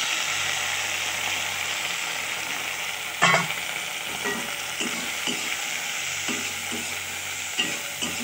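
Green peas tipped into onions fried until red with chilli in a pan, giving a steady close sizzle with scraping stirs and a sharp clatter as the peas go in; no talking.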